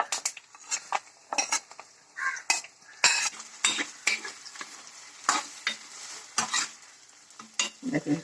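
Okra fries in hot oil with mustard seeds and curry leaves, giving a continuous sizzle under frequent sharp clinks and scrapes of a spoon against the pan, close and lively, with no voices.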